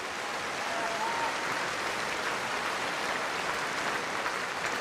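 A concert audience at the New Wave 2015 contest applauds the Sochi Symphony Orchestra, a sustained, even roll of many hands clapping at moderate distance, with no talk over it.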